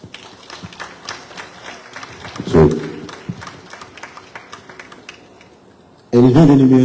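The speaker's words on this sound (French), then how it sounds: "mesdames et messieurs, un peu plus d'énergie dans vos applaudissements" Audience applause at a prefecture solidarity-day event, a sparse patter of clapping with a brief louder burst, then a sudden loud swell of clapping near the end.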